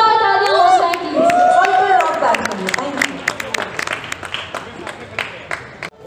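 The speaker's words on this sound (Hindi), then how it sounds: "एक बार जोरदार तालियां हो जाए प्लीज।" Crowd applause at a rock band concert at Lucknow Mahotsav 2018, rising after a voice at the start into loud scattered clapping that gradually thins and fades.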